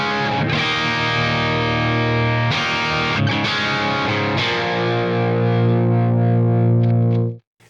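A Telecaster electric guitar plays a distorted rhythm tone with chorus-like effects, strummed in loud, sustained chords that ring across the full range before cutting off abruptly, alone with no talking.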